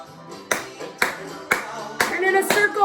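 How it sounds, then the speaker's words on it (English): Hands clapping at a parent-and-child gym lesson, five or six distinct claps spaced evenly about half a second apart, close and clear over a soft voice. "Clap your hands."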